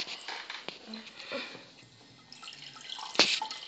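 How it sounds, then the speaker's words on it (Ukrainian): Juice poured from a punctured carton into a small glass, heard as faint, close dripping and splashing trickles, ending with a brief sharper spatter. "ми пробиваємо і виливаємо це все в стаканчик."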